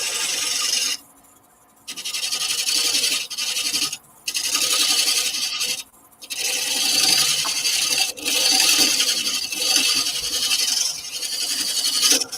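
A gum wood bowl is cut on a lathe, with a harsh, rasping scrape of the tool against the spinning timber, loud and close, broken by several short pauses where the cutting stops.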